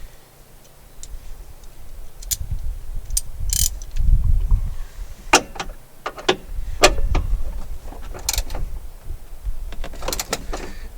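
Ratchet with a 13 mm deep socket and extension loosening fasteners on a 2006 Jeep Wrangler TJ dash, close rapid clicking in short bursts separated by pauses, with faint shuffling between, no voices.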